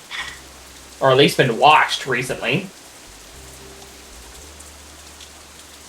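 Steady rain hisses throughout a scene in the visual novel Katawa Shoujo, a soft, even wash that runs beneath a brief stretch of spoken conversation and continues alone afterward.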